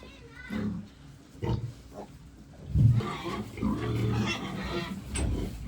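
Young piglets, three days old, grunt and oink in a series of short bursts close by, with soft snuffling between calls and some faint talking mixed in.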